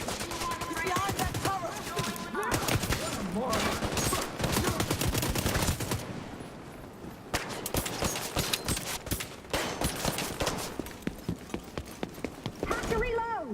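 A machine gun fires in The Division 2, dense rapid bursts of loud gunfire across a chaotic firefight, with voices talking over and between the shots.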